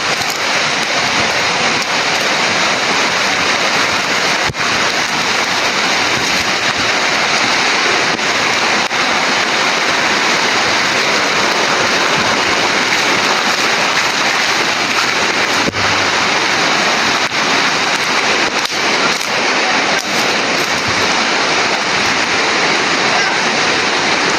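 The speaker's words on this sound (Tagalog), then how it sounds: "Malakas ang ulan mga tol." Heavy rain pouring down outdoors, a loud, continuous dense hiss of water that fills the whole stretch without letting up, with occasional faint voices under it.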